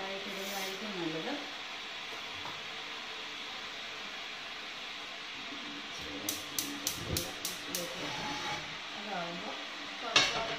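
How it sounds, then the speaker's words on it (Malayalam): Half a teaspoon of mustard seeds drops into hot oil for a simple mango pickle, giving a steady hiss with a run of small pops and crackles near the end, while someone talks over the first part. "ഒരു അര ടീസ്പൂൺ കടുക് ഞാൻ ഇടാൻ പോവാണ് എണ്ണ ചൂടായി എന്നാണ് തോന്നുന്നത്"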